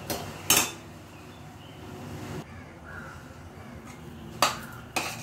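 A metal ladle stirs thickening puran mixture, a sweet chana dal and jaggery filling for puranpoli, in a pot, giving a few sharp clinks against the sides with quiet scraping in between.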